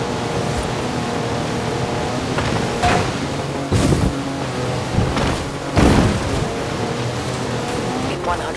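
A car engine in Forza Horizon 4, a 340-horsepower road car, drones steadily with several brief louder surges and thumps while someone talks over it throughout.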